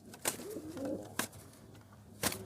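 Kashk pigeons give a soft, low coo in the middle of a short stretch, close by, with a few sharp wing or foot clicks around it.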